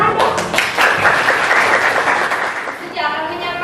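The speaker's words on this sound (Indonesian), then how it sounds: "Beri tepuk tangan dong." Applause in a classroom during a student teaching session: a dense, steady wash of clapping from a group, close and fairly loud, lasting several seconds and easing slightly near the end.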